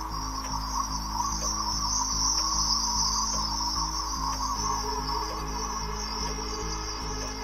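Cicadas chirring in a steady, loud, shrill drone that holds throughout, with a faint pulsing texture underneath and no talking.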